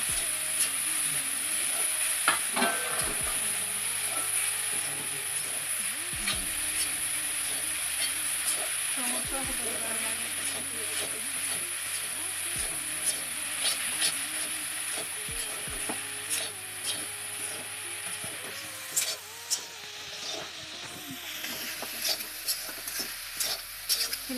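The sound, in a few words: stirring and frying coconut laru mixture in a wok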